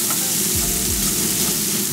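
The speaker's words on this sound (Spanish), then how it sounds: "vamos a añadir nuestras cebollitas picaditas. Y a fuego medio vamos a dejar que crude hasta que quede translúcida" Chopped onions frying over medium heat in pork and bacon fat, giving a steady, close, dense sizzle with light stirring throughout and no voices.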